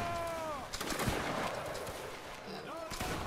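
Musket volley fire in a Roblox Napoleonic battle at Wagram, a burst of overlapping gunshots around one second amid game noise and shouted commands, with players talking over it throughout.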